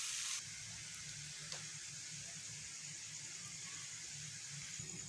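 Ginger garlic paste fries in a pan for an egg masala, giving a steady, soft sizzle throughout with a brief louder burst at the very start, close and quiet, with no talking.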